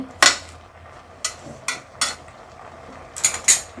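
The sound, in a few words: turning spinach over in a pot with a spatula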